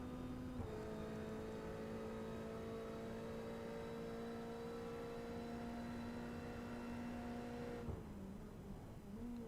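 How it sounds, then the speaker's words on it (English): A GT3 Cup race car in a racing video game at Road America, its engine holding a steady loud tone that jumps at gear changes near the start and near the end. "all the way down to the second gear to get through that first corner, and then back on the throttle and up through the gearbox"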